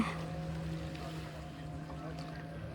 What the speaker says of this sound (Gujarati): અત્યારે અમને બોટ લેવા આવી છે